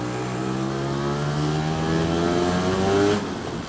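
A Lambretta scooter engine droning steadily while riding, its pitch rising slightly and holding before easing off near the end, close and continuous.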